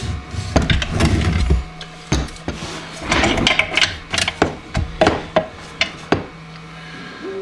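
Chisel struck against the buildup around the impeller nut of a Flo Master hot tub pump, a series of sharp, irregular metallic taps and scrapes close by, with no talking.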